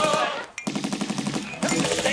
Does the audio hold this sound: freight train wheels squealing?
no